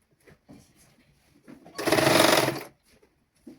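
A sewing machine stitching children's clothing in a basic tailoring class runs in one short, steady whirring burst, framed by faint fabric handling and quiet clicks.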